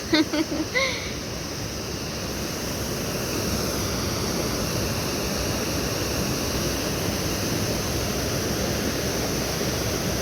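A river rushes below the Santa Elena bridge in Joyabaj, Quiché, a steady broad roar of flowing water that fills the whole stretch, with a few brief bumps and a voice at the very start.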